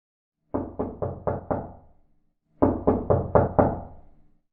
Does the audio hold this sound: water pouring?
no